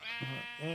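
A sheep in the Minecraft video game bleats twice in quick succession, a nasal wavering call, close and clear.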